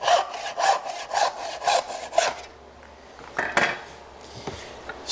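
A hand saw cuts a piece off wood for dovetails, rasping in five or six quick, even strokes close by, then slowing to a few scattered scrapes and taps as the cut finishes.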